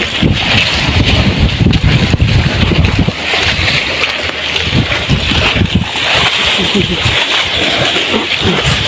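Steady wind buffeting the microphone at a seawall, a loud continuous rumble with gusty low thumps, over faint background activity.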